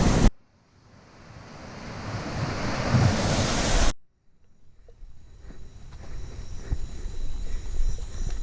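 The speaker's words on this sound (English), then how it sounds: "As you can hear, the water is really, really big" Myanmar's highest waterfall gives off a broad, rushing roar. It builds for a few seconds, cuts out abruptly, then returns softer and grows again, with wind buffeting the microphone.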